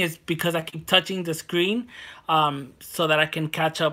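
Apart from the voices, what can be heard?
No everyday noises stand out.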